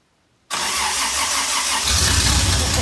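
A rebuilt Toyota 2F engine cranks on its starter motor, a steady loud whirring drone that kicks in abruptly and continues without firing.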